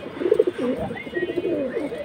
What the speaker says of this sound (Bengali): এই যে লফটে যে কবুতরগুলো দেখতেছেন সবগুলো কবুতরই সেল হবে